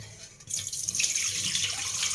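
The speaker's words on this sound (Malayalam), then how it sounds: "പെട്ടെന്ന് പെട്ടെന്ന് ഇങ്ങനെ കഴുകിയെടുത്താൽ റാഗി കുതിർന്നു പോകില്ല" Ragi grains being washed by hand in water, with steady close splashing and sloshing that starts abruptly after a quiet moment and continues without a break.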